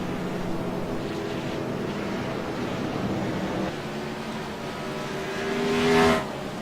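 Racing trucks roar around Charlotte's track under the lights, a steady drone of engines that swells as one passes close near the end.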